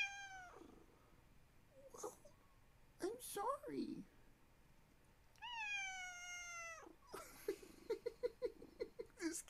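A melodramatic cat meows in long, drawn-out wails with a few shorter cries, close and loud, and a person talks to it in between; a soft purr may sit underneath.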